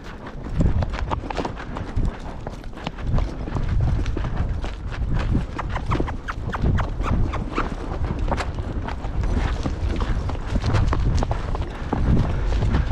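Steady, fairly loud clip-clop of a big ridden horse's hooves moving out at a brisk pace on a ranch, with continuous rhythmic footfalls and faint background rumble.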